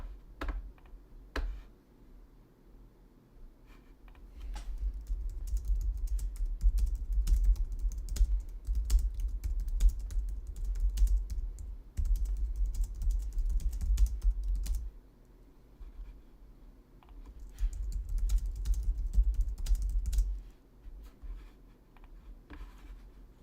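Steady typing on a computer keyboard at a streaming desk, dense runs of clacking keystrokes in bursts with short pauses between them, close and moderately loud with no talking.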